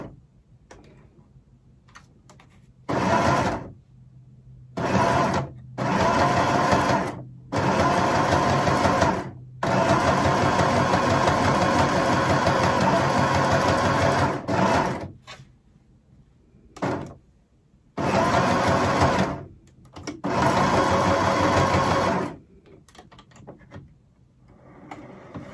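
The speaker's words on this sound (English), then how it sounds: "So put the presser foot down. start, backstitch," A sewing machine stitching with the presser foot down, including a backstitch, runs in several loud bursts of steady mechanical whirring separated by short pauses.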